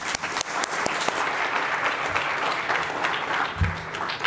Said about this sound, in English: and one applause for the panelists.